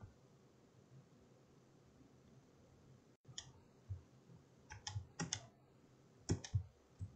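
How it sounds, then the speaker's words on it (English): A computer mouse clicks in quick clusters of three, sharp and close, standing out over a faint steady hiss after a quiet opening stretch, with no voices. "triple click or click three times"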